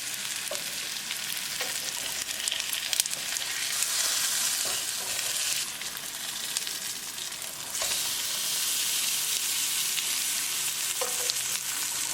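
Oat-coated Atlantic salmon fillets sizzle in a hot frying pan, a loud continuous crackling hiss with brief stirring or shifting noises, no voices.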